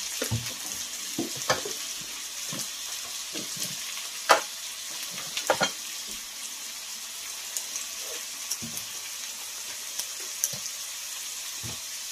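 Ground cumin, coriander, red chili powder and salt fry in oil and butter for a shahi chicken korma, giving a steady close sizzle broken by scattered clicks and scrapes of stirring, with no talk.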